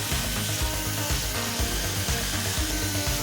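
A power drill bores larger holes through a metal jam jar lid, a continuous loud grinding whir with rough scraping texture running steadily throughout.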